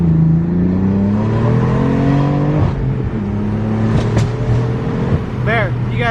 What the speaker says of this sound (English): it just randomly started popping as I punched it